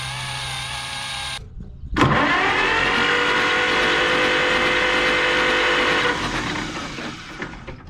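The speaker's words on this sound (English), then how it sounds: "Just gonna use my brass wire wheel on here." A spinning brass wire wheel whirs as an old AC spark plug is scrubbed against it. A motor spins up sharply, holds a steady high whine with a gritty brushing hiss for about four seconds, then winds down.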